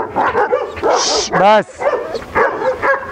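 A dog gives a couple of short yips and a rising whimpering bark in the middle, close and loud, while someone talks over and around it.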